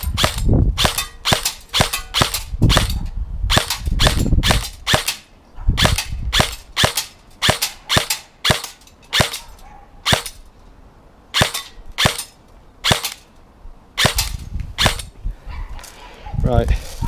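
A G&G CM18 MOD1 airsoft rifle fires in semi-automatic mode, with sharp single shots spaced at an irregular, quick rhythm, loud and close throughout.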